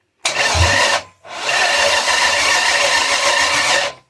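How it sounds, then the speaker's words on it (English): A Volvo Penta AQ271 marine engine runs with its impeller pump working, giving a loud, steady mechanical roar that cuts out briefly near the one-second mark and then resumes at full level. "The impeller pump is not supposed to be running."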